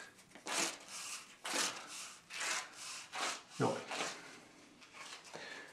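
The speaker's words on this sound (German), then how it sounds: "wir reißen weiter." Woodchip wallpaper is torn by hand in repeated rough, rasping rips, each burst lasting about half a second, with short pauses between them, close and fairly quiet.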